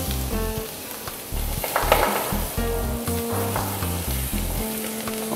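Chopped onion added to a hot pan for a beef osso buco braise sizzles and fries steadily, loud and close, with faint stirring and no talk.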